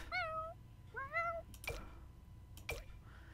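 A cat in The Sims 4 video game gives two clear, rising meows close together, followed by a couple of soft clicks, alone over a faint background hum.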